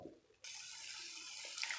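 Steady rush of water poured into a pan of paneer masala, after a brief quiet start, continuous and fairly close, with a slight splash toward the end.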